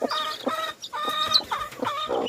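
A chicken clucks and squawks repeatedly, close by, in a steady run of short, bright calls with brief pauses between them.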